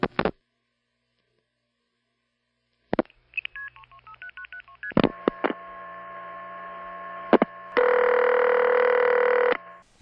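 Telephone network signalling after dialing: sharp clicks, a quick run of stepped multifrequency tones, more clicks, then a loud steady buzzing tone over a faint low hum, heard alone down a phone line.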